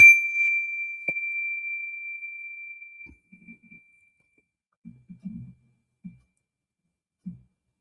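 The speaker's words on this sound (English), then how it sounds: "When you detect the vibration of my bell" A meditation bell rung once during a guided mindfulness exercise gives a clear, sustained ring that slowly fades over about four seconds, followed by a few soft, faint sounds in otherwise quiet surroundings.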